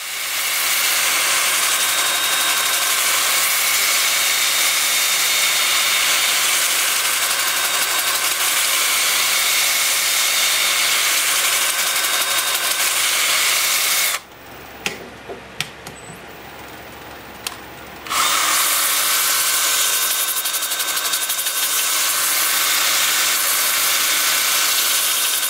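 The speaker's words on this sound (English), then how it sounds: "I've got the lathe spinning at 350 RPM." A loud, steady whine and hiss of an 80-grit 2-inch sanding disc on wood turning on a lathe at 350 RPM fills the scene, stopping briefly for a few seconds before resuming.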